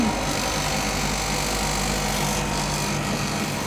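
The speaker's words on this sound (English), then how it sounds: "so I will switch on the vacuum pump" A freeze dryer's vacuum pump runs steadily, giving a continuous close mechanical hum and whir with a constant, even level throughout and no talk.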